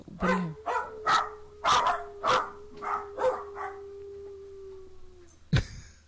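Recorded dogs barking and howling: a string of about eight loud, evenly spaced barks over a long sustained howl, ending with one more sharp bark after a short pause.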